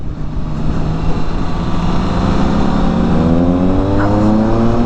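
A 2022 BMW K 1600 B motorcycle cruises on a highway, its six-cylinder engine giving a loud, steady hum that rises slightly in pitch as it accelerates, mixed with heavy wind rush and no talking.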